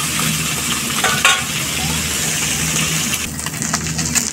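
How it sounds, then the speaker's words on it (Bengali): Small chapila fish fry in a pan with a loud, constant sizzle, close up, broken by a few scraping stirs and turns along the way. "তবে হ্যাঁ, উনানের আঁচটা একটু কমে মাছগুলো ভাজার চেষ্টা করবেন।"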